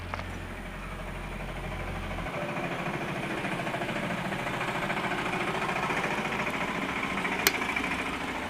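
A brushcutter with a starting problem runs at a steady, even idle nearby, its small engine droning with a constant rattling vibration throughout.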